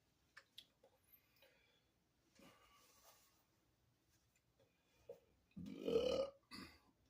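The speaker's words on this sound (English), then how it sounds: "That was classy. That burp." One long, loud, rumbling burp comes up close to the microphone, followed by a shorter gulp. Before it, soft taps and quiet rustling sit in a hushed room.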